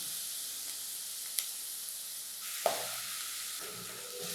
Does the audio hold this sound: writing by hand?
no